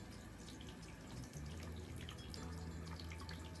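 Tap water runs and splashes steadily onto skin while a fresh tattoo is washed, a faint continuous flow with a few drips and no talk.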